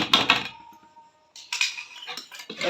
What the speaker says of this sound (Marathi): बघा छानपैकी हलवायचं